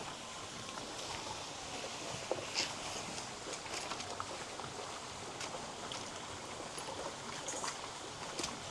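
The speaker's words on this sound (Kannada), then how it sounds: "ಅಡಕೆ ಸಸಿಗೆ ನೀರು ಹಾಕಕ್ಕೆ" Water runs steadily onto young areca nut saplings in a plantation, a soft continuous trickling and splashing rush heard at low level throughout with a few faint knocks.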